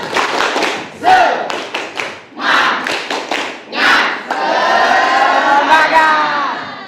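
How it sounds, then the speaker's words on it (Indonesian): A classroom of students performs a rhythmic spirit-clapping chant, bursts of patterned clapping mixed with loud group chanting and shouts, ending in sustained cheering voices. "Tepuk semangat."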